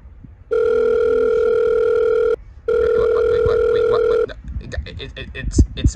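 A telephone rings indoors in two long, loud, steady electronic bursts separated by a brief gap, followed by rustling and faint voices.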